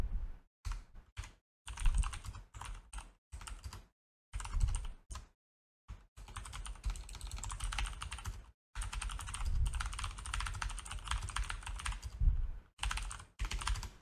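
Bursts of typing on a computer keyboard during a spreadsheet exam walkthrough, with quick runs of keystrokes broken by short pauses, close and clear with no talking.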